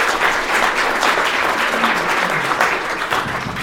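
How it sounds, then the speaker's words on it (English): Audience applause fills a lounge at a live sports talk show, steady dense clapping close by for just under four seconds with no talk over it. "Give these guys a big round of applause."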